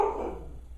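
A single short dog bark sounds close and fairly loud, then tails off quickly into quiet.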